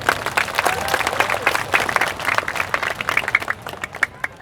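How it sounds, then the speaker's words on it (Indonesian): Crowd applause for BTV at an outdoor Islamic study gathering in the Madiun town square: lively, uneven clapping from many hands, thinning toward the end into separate, crisp claps. "Tepuk tangan untuk BTV."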